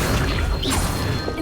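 Accio summoning spell from the video game Hogwarts Legacy, a loud, dense burst of magical crashing and whooshing that fills the whole moment, with combat clatter underneath.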